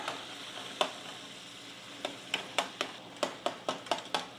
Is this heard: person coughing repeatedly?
no